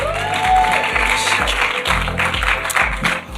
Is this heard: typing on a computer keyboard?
no